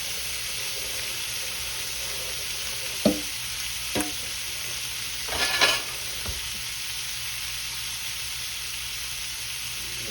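Shrimp frying on a hot grill pan in a home kitchen give off a steady sizzle, broken by a few brief clinks and scrapes of stirring and one short louder burst of spitting.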